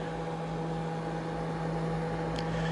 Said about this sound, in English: The noise you hear is my air conditioner running.